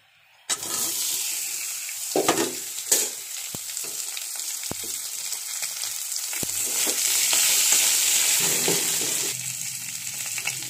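Potatoes drop into hot oil in a pan with bay leaves and erupt into a loud, steady sizzle that swells and stays strong, punctuated by a few sharp knocks and scrapes.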